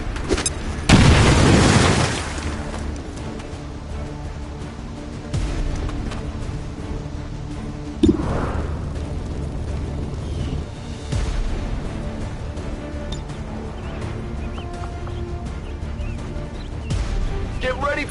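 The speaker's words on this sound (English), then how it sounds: "Grenade!" A grenade blows up in a PS4 video game with a loud, close boom early on, followed by fainter rumbling blasts and background game noise; a voice talks briefly during it.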